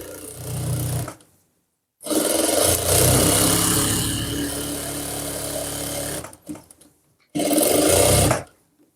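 A sewing machine stitches a Nihang Singh chola garment in loud, sustained runs of motor whir broken by short pauses, with a brief restart at the end and no talk over it.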